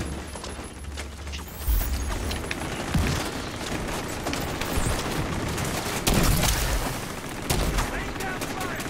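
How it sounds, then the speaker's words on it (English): Dense gunfire fills a raid boss fight in The Division 2, with sustained overlapping shots and bursts, heavy impacts and booms, and voices talking over the constant shooting. "I've been shooting at it for like 30 seconds now"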